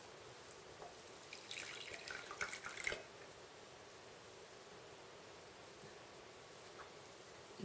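Water poured into a bowl during a Japanese tea ceremony in Tokyo, a faint, close trickle that swells for a couple of seconds and then fades to quiet room hiss.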